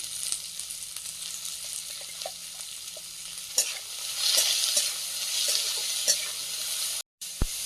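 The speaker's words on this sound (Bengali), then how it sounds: "লবণ আর হলুদ মিশিয়ে রেখেছিলাম চিংড়ি মাছ দিয়ে দেবো" Prawns marinated with salt and turmeric fry in a pan with a steady, close hiss and sizzle, broken by occasional clicks and scrapes of stirring, with no talking.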